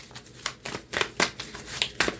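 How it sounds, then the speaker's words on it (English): Tarot cards being shuffled by hand, a series of crisp riffling bursts in an uneven rhythm, close and alone with no talking. "Let's give the cards a shuffle."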